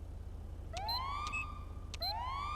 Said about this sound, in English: The way you turn your siren on controller is down on the D-pad